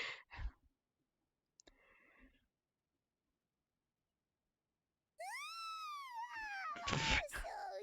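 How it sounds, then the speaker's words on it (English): A video game character in Genshin Impact lets out a long, drawn-out yawn, a rising then falling moaning tone that follows a short quiet stretch with a few faint clicks, heard close and clear. "That was a wild start to that yawn."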